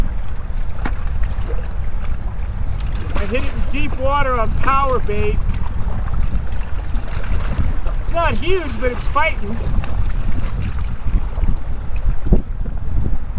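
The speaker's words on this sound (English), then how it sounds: "It is gale force winds out here." Strong gale-force wind buffets the microphone on the Big Bear Lake shore, a constant heavy roar running throughout while someone talks excitedly over it.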